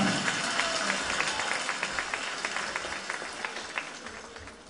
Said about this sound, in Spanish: con sonoras palmas y cariñosos aplausos